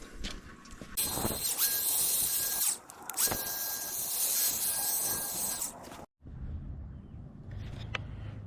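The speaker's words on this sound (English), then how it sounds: "I want to deburr this with the die grinder" Die grinder deburring a metal part during a gas tank relocation on a 67-72 Chevy C10/C20 truck: a loud, steady high-pitched whine that breaks off briefly twice, then gives way to quieter shop noise.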